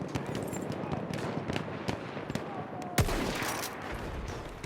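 Enemy gunfire in the video game Battlefield 1 crackles as scattered, sharp shots over a busy battlefield background, with one louder nearby blast partway through.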